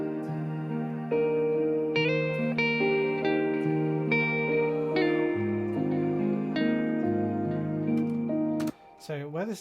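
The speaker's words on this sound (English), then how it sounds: "So this is a guitar lead that I kind of recorded for the bridge that never got used in the end." A recorded guitar lead for a song bridge, pitched down an octave, plays a sustained melodic line with drawn-out, echoing notes that glide between pitches, heard alone and fairly loud for about nine seconds before a brief tail of other sound.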